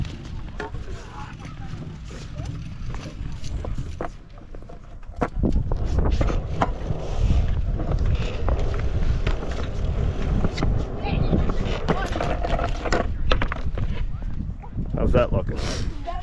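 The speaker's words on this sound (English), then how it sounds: "Flip your bike upside down, drag the grips." Silicone BMX grips on an upside-down bike scrape steadily along the ground, a continuous rough dragging under wind noise and speech.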